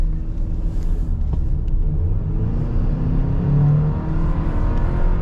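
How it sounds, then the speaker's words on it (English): A 2024 Chevrolet Silverado regular cab with the 2.7 TurboMax engine accelerates from a rolling start on a cold day, a steady engine drone and low rumble building inside the cab, with no talking. "And let's see how fast it gets up to speed."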